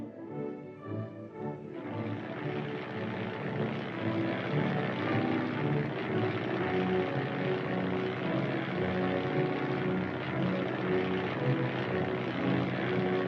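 A propeller reconnaissance aircraft drones overhead in a steady, continuous engine hum that swells slightly after the first seconds and holds at a moderate level throughout.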